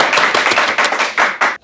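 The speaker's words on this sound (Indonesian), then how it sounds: "tepuk tangan dulu dong." Hands clapping at an Indonesian talk-show event in Bogor, a quick burst of claps from a small audience, fairly close and loud, stopping abruptly after under two seconds.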